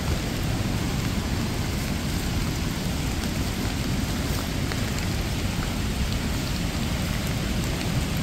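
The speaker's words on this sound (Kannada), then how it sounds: "ಇವತ್ತಿನ ಕೋಟ ಮಳೆ ಬೇರೆ ಬರ್ತಾ ಉಂಟು" Steady, loud rain falls continuously at a foggy hilltop viewpoint near Yellapur, a dense hiss with low rumbling underneath and no voices.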